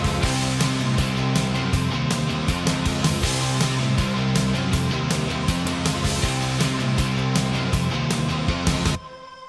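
A rock track mastered with Ozone 12 Advanced plays loud and dense, with punchy drums hitting on a steady beat over thick guitars and bass, then dropping suddenly to a quieter tail at the end.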